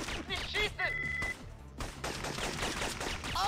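Gunfire aimed at enemies in the PlayStation 1 game Syphon Filter, rapid shots mixed with game sound effects and shouts, loud and dense throughout.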